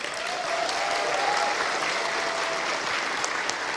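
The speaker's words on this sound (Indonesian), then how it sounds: "tepuk tangan berdiri coba" Audience at a PLN corporate gathering in Indonesia rises for a standing ovation, dense steady applause filling the hall at an even level throughout, with a faint voice ringing over the clapping.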